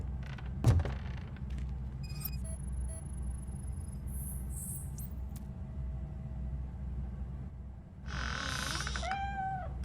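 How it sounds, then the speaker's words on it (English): Cat meowing in the video game RoboCop: Rogue City, a few distinct rising and falling meows over a steady low game ambience, with a louder burst of cries near the end. "The cat is fine."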